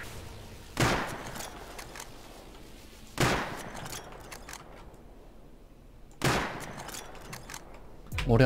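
Gunfire in the survival game Rust comes as three separate sharp single shots spaced a few seconds apart over a low ambient background, with another shot starting at the very end.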